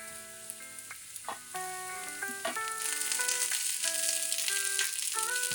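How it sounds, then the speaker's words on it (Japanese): Meat coated in potato starch fries in a lightly oiled frying pan, its sizzle building to a steady crackle under a background of tonal music, with no speech. "最後に片栗粉小さじ2をまぶしたら、 大さじ1の油をひいたフライパンで焼きます"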